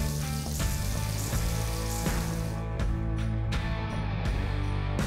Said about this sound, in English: We can actually pan fry inside with the beef